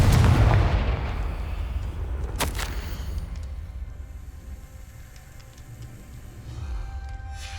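A Confringo fire spell bursts in the Hogwarts Legacy video game, opening with a heavy booming blast, then a sharp crack, and finally a long rumbling, crackling decay that fades and swells again.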